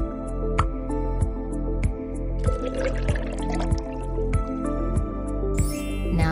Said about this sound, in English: Now fill up the bottle with some water.